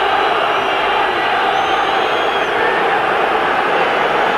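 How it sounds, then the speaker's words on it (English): Large football stadium crowd at a Celtic versus Kilmarnock league match, a loud continuous roar of many voices filling the whole clip, dense and steady with no single voice standing out. "you can hear what the crowd think about that result in the background"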